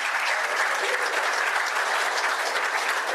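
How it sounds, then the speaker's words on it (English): Steady, dense applause from an audience at a Rotary fundraising gathering, a close and loud wash of clapping that holds without pause throughout. "The applause just keeps coming."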